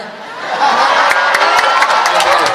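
Audience of university students in Kupang clapping and cheering for a presidential candidate, a sudden swell of applause and whoops rising after a quieter start, loud and close.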